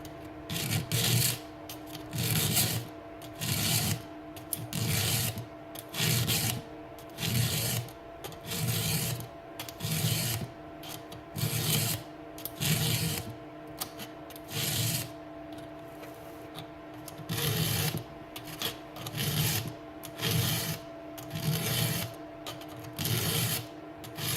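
A hand file sharpens chainsaw teeth in a regular rhythm of rasping strokes, each a close, loud scrape followed by a short pause, repeated about twenty times without talk.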